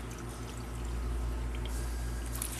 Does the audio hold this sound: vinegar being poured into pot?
yes